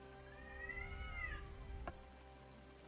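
A single cat meow in the medieval open-world game Kingdom Come: Deliverance II, a rising then falling mew lasting about a second, quiet over a low ambient hum with a faint knock afterward.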